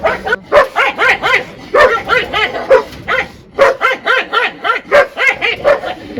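Two dogs bark and yip in rapid, overlapping bursts while squabbling at daily feeding time, loud and close, with whimpering mixed in and no clear talk.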